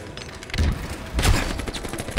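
Gunfire in Halo Infinite multiplayer: two heavy booming shot bursts, about half a second apart, standing out over a low background rumble, with no talk.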